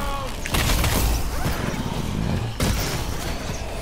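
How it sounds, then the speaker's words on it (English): A bomb explodes in a Call of Duty: Advanced Warfare Exo Zombies match, a loud rumbling blast followed by dense crackling chaos and another burst near the end. "Yeah, bomb."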